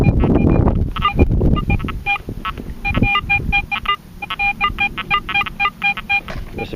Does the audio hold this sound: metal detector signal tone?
yes